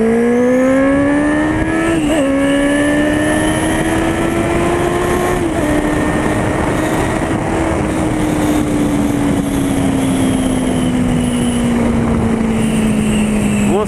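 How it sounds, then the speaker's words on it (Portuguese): A Honda CB650R motorcycle fitted with an aftermarket exhaust diffuser roars steadily while riding, a loud, deep and full engine drone with slight pitch rises and dips as the throttle shifts, plus wind rush, continuous for the whole stretch. "o ronco ficou sensacional, velho. Tá um ronco encorpado, grave."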